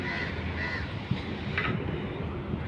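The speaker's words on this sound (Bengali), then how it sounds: "অনেক কাক এখানে" Several crows caw at a busy outdoor spot where many of them perch, their harsh calls cutting through steady background noise for a few seconds.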